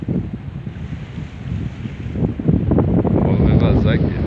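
Strong wind gusts by the sea rumble and buffet the microphone close up, building louder over a few seconds, with waves washing in the background.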